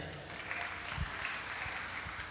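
A church congregation claps in a continuous, moderately quiet wash of applause that stays even throughout.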